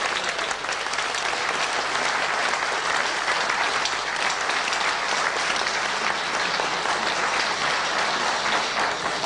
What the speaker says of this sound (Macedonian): Ви благодарам за аплаузот